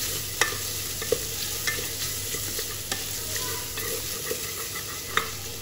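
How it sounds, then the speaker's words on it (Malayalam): Tomatoes sautéing in a pan for chicken kurma, a steady sizzle with scattered scraping stirs of a spoon against the pan, close and moderately loud, no talking. "നമുക്ക് ഈ തക്കാളി നന്നായി വഴറ്റിയെടുക്കാം."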